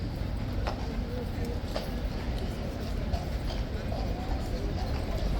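A guard's horse clip-clops on hard ground amid a crowd of visiting students, the hoof clops coming in a loose rhythm under a constant wash of crowd chatter.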